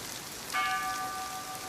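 Steady rain hisses throughout, and partway through a clear ringing bell-like tone rises and sustains above the downpour.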